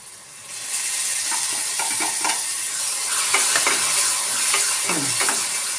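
A ground spice paste with tomato paste stirred and frying in a pan for paneer masala, giving a steady close sizzle and hiss with scraping stir strokes throughout, no talk.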